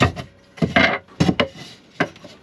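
Pre-cut wooden slats being set into a wardrobe, giving a few close, dry wooden knocks and scraping rubs in separate bursts with quiet gaps between.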